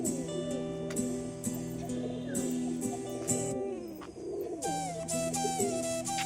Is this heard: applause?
no